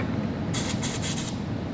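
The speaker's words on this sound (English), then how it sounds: "we're going to be spraying down the rubber isolators on either side of the exhaust" Several short hissing bursts of aerosol lubricant sprayed onto the rubber exhaust isolators under a 2017 Ford Edge, close and fairly loud, with brief gaps between bursts.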